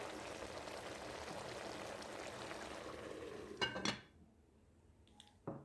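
A metal lid clatters onto a pot of cooked broccoli: two close, sharp clinks after steady simmering and bubbling, then near silence and a final small knock.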